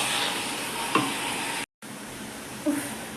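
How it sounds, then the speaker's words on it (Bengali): Taro (kochu) cooking in a pan in a home kitchen, a soft steady sizzle and hiss with a faint stir scrape, quiet and close, briefly cut off partway, no one speaking. "এখন কচুটা করছি। কচু করতে একটু টাইম লাগে"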